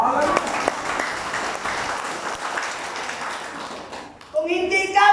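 Applause breaks out during a Filipino church preaching service. A burst of clapping carries on for about four seconds and dies away, then a voice comes in over it.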